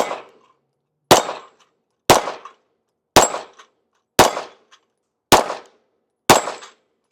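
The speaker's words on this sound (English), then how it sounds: "Trying to get all 6 with 6 shots." Seven sharp pistol shots from a Springfield Echelon fired at 15 yards, loud and close, spaced about a second apart with brief decaying echoes and no talking.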